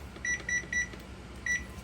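Four short electronic beeps from a kitchen timer being set for boiling soba noodles, three evenly spaced in quick succession and one more after a pause, clear over a low background hum.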